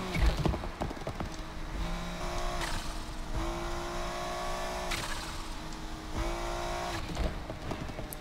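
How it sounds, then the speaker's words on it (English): V6 engine of a Subaru BRZ drifting in Need for Speed Unbound, a continuous droning rev that rises and falls through several gear shifts, loud and alone with tire noise underneath. "Not the best sounding V6"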